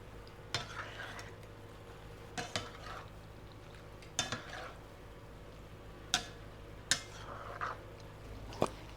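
Pasta being stirred into a creamy sauce in a cooking pot, with a utensil knocking against the pot in scattered sharp clacks and scrapes over a steady low background hum, close and moderately quiet.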